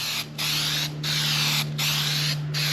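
Gelcoat sprayed from an aerosol nozzle onto a fiberglass repair in repeated hissing strokes, each about half a second long with brief gaps between, close and steady over a low background hum.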